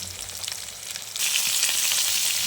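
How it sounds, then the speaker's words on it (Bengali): Cauliflower frying in a pan, a soft sizzle that suddenly swells into a loud, bright, steady crackle partway through, close up with no voices. "ফুলকপিটাও আমি ভেজে নিচ্ছি"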